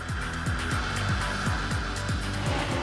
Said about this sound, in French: la voiture monte dans les tours, mais Saïd stoppe brusquement son accélérati